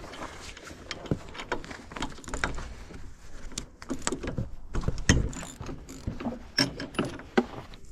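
Ratchet socket wrench working at a stuck spark plug, a run of close, uneven mechanical clicks and scrapes with short bursts, heard alone without talk.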